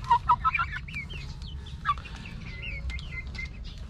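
Chickens in a backyard coop cluck in a quick burst of short, close calls at the start, then softer chirps and clucks trail off over a low background hum.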